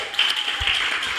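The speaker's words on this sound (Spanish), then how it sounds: "Un aplauso para él." Audience at a talk applauds a guest speaker, a brief, moderately loud burst of mixed clapping heard on its own.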